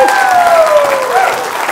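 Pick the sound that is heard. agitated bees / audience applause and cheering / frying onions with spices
audience applause and cheering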